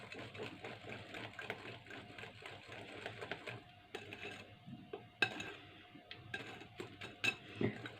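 Cake batter of sugar and oil stirred briskly in a bowl, producing quick rhythmic scraping and light clinks of utensil on the bowl, soft and close, with a few sharper knocks.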